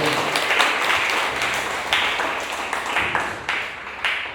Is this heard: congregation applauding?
yes